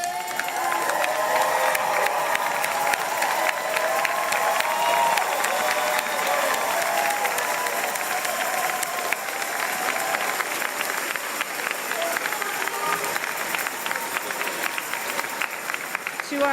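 Sustained applause from a large crowd, dense and steady clapping with occasional cheers, continuing loudly without pause.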